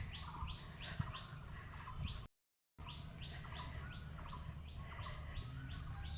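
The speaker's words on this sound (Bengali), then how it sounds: "শুধু পাখিদের ডাক, পাখিদের আওয়াজ, কিচিরমিচির মিচির করে পাখি ডাকছে।" Birds chirp and call steadily along a tree-lined path on a morning walk, quick repeated twittering phrases at moderate distance over a soft insect-like hiss, with a brief gap of silence partway through.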